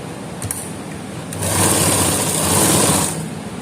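Sewing machine stitching a neckline onto shirt fabric, running in a fast, steady whir that speeds up and grows louder after a couple of soft clicks, then holds close and loud before stopping near the end.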